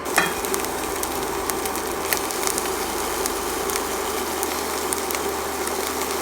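Salmon fries skin side down in a lidded pan on a low-powered induction cooktop, giving a steady close sizzle and crackle with scattered sharp pops throughout.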